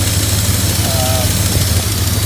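A 1996 Dodge Ram 1500 pickup engine idles steadily with a low, even rumble and a faint ticking from an exhaust leak at a broken stud, heard up close.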